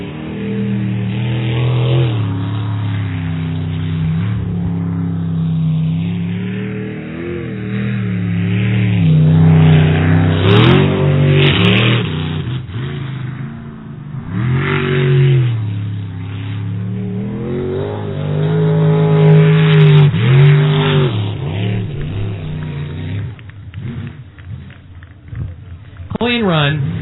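A racing boat's engine roars through a qualifying run, its pitch rising and falling as it revs, loud and steady for the whole stretch while a commentator talks over it.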